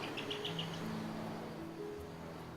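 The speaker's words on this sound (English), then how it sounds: "We've heard a striated grass wren singing." Striated grass wren singing from a rooftop in Bali, a faint series of quick high chirps near the start over a steady low hum and insect-like background.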